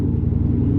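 Dodge R/T engine fitted with BBK long-tube headers, a steady deep exhaust rumble at a constant idle, loud and close, with no voices over it.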